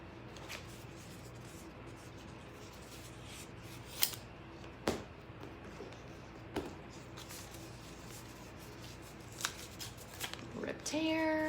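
Scissors snip and cut tape in a quiet room during preparation of kinesiology-style tape for the lower back, with a few sharp crisp cuts and rustling, ending in a brief tearing sound.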